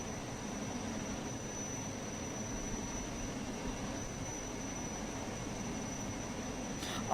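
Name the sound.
jet aircraft engine in Unturned video game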